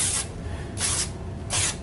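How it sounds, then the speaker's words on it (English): Three short hissing bursts of lubricant spray aimed at the plastic parts of a StairMaster 4000 stepper, each lasting about a quarter second and evenly spaced, close by over a low background hum. "just a spray lube"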